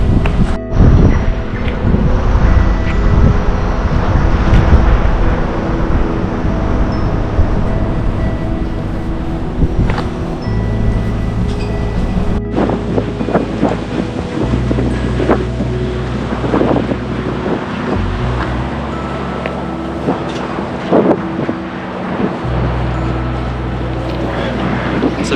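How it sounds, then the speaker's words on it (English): Strong wind buffets the microphone on the Wellington waterfront on a sunny day, a loud, continuous roaring rumble with gusting surges, water and traffic noise faintly mixed beneath it. "It's a very windy day today"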